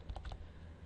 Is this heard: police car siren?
no